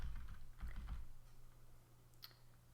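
Soft, quiet clicks of a computer keyboard as a key is tapped repeatedly while building a Crossy Road-style game, a quick cluster of presses early on, then sparser taps over a faint steady hum.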